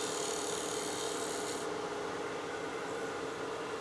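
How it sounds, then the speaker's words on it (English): A lathe tool cuts the side grain of an aluminum pocket case with a soft, continuous scraping hiss, faint and steady, with a brief click at the end. "we're cutting side grain here, so it's not gonna be super aggressive"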